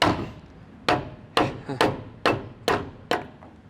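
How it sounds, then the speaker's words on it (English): A soft hammer strikes repeatedly to separate splines during a lift kit install on a 2021 Ford F150, giving seven sharp close impacts spaced about half a second apart with short ringing decays. "Just try and use something softer that will have enough impact though to be able to remove those splines from each other."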